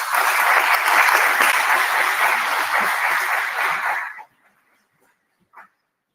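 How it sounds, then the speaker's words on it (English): A conference audience applauds an award presentation, a loud, dense wash of clapping from many hands that holds steady for about four seconds, then cuts off abruptly into near silence with one faint trailing clap. "please join me in applauding the extraordinary contributions of Julia Morley, CBE."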